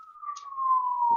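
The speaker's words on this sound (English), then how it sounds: "that's the third cop car in under an hour" A police siren wails in a steady, slowly falling tone, fairly loud and continuous, with a brief low rumble near the end.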